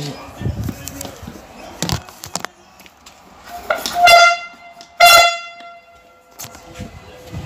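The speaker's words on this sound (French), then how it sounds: "Un coup de klaxon." A car horn gives two sharp honks about a second apart during a France–Poland match-day outing, with people talking and moving around it.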